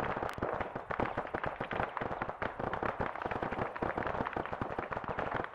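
Dense, continuous gunfire in the military shooter Arma 3, with many rapid overlapping shots and bursts cracking nonstop at steady loudness throughout, some sharp and close, others distant.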